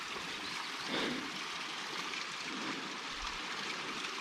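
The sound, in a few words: trickle of water flowing over rocks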